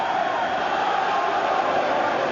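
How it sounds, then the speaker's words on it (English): A large boxing-arena crowd chants during the Gerald McClellan vs Nigel Benn fight, making a dense, steady roar of many voices that holds loud and unbroken throughout. "The crowd chanting"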